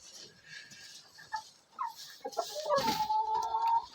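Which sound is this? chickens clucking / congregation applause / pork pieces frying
chickens clucking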